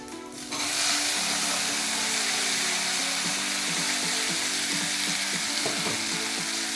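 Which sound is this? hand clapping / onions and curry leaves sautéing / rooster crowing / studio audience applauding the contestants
onions and curry leaves sautéing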